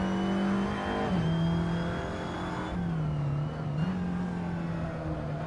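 A small Volkswagen Beetle (Käfer) engine drones steadily as the car drives a track in the racing game Assetto Corsa, its pitch dipping and rising through shifts and corners, loud and continuous with no talking.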